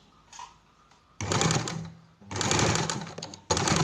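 Sewing machine stitching a bound buttonhole in fabric, running in short bursts of rapid mechanical chatter separated by brief pauses, loud and close.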